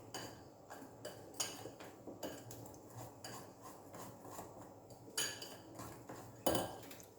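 Cake batter being mixed in a bowl with cashew nuts and baking powder to follow, a spoon or whisk scraping and clinking against the bowl in an irregular run of soft knocks, one louder clink near the end.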